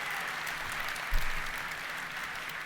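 A keynote audience claps steadily, a dense wash of applause filling the room evenly throughout, with one brief low thump partway through.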